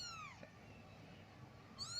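A kitten gives two short, faint meows, one at the start and a higher one near the end, in a quiet indoor room.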